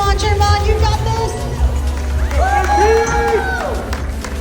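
Spectators at a drone race cheer and shout encouragement, a dense continuous roar of voices with rising whoops in the middle, close and loud.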